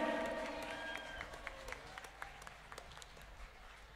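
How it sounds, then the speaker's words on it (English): An audience at an outdoor Christmas carols-by-candlelight concert in Albury applauds, the clapping strong at first and then thinning into scattered, distinct claps as it fades. "please give a very big round of applause"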